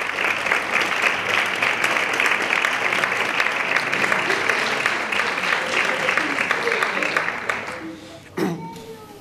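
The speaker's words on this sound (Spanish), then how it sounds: "Recibamos con un fuerte aplauso al autor de la obra Gramática de la Creación" A book-presentation audience in Manilva gives the author of a newly presented book a loud, sustained round of applause, with dense clapping that carries on for several seconds before thinning and trailing off near the end.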